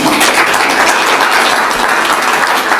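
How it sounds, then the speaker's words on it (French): Loud, dense applause from a crowd at a business day event, steady throughout with no voices standing out. "si on peut vraiment l'applaudir, il saura qu'on l'a applaudi"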